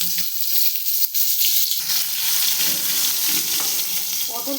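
Pointed gourd (potol) sizzles and fries steadily in a hot pan, a loud continuous crackling hiss with occasional stirring scrapes and no talk.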